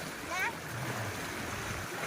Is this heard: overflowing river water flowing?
yes